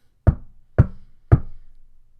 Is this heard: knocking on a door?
yes